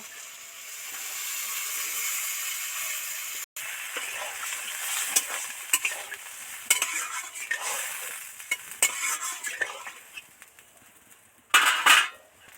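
Vegetables sizzling in a pan for Bengali thor bori khara, with a steady hiss broken by repeated scraping and clinking of a utensil against the pan, then a loud splash-like burst near the end as water goes in.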